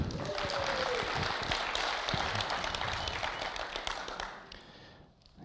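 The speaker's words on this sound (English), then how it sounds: "Everyone who's organized the events, let's give them a round of applause" An audience gives a round of applause for event organizers at a talk, dense steady clapping that fills the room and tapers off near the end, with faint voices mixed in.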